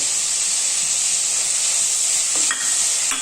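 Onions, slit green chilies and curry leaves sizzle steadily in a pan for a vegetable kurma, a bright continuous hiss with a brief scrape of stirring toward the end.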